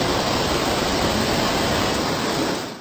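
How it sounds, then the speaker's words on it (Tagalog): Floodwater rushes through a creek during a typhoon in the Visayas and Mindanao, a dense, loud, steady roar of torrent noise that fills the whole moment without any voices. "Rumaragasa ang tubig sa sapang ito."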